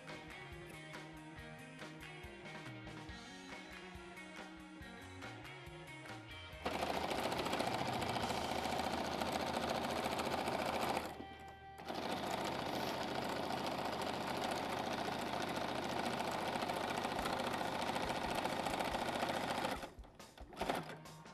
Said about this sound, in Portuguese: Vamos costurar toda a volta